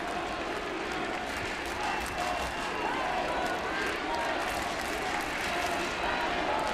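A baseball stadium crowd cheers after a home run, a steady, even roar of applause and cheering that holds throughout while a commentator talks over it.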